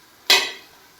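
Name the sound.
stirring and sautéing masala with coriander and mint leaves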